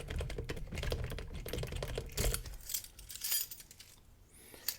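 Metal tryout keys jingle and click as they are worked in a lock, a near, continuous rattle of small metallic clinks and scrapes with brief louder taps and no voices.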